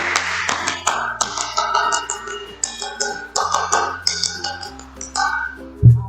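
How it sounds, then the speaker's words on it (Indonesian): Indonesian scouts perform the tepuk pramuka rhythmic clap twice, a crisp patterned sequence of sharp claps and taps in a steady beat, close and clear with a faint voice underneath. "Dua kali tepuk pramuka"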